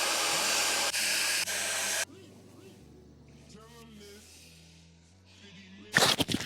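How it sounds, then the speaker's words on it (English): A hair dryer fitted with a diffuser attachment blows loudly and steadily for about two seconds, then cuts off, leaving quieter room sounds and voices before a brief burst of noise at the end. "we're going to put on the diffuser."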